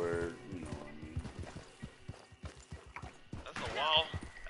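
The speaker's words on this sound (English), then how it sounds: "That's like a wild horse." Wild horse hooves in Red Dead Online, a steady rhythmic clip-clop of galloping hoofbeats with a whinny near the end, heard under talking voices.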